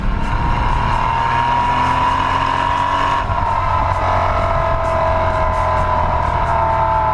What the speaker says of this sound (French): maintenant je vous laisse en compagnie de l'échappement de cette auto. Écoutez le bruit, c'est magnifique.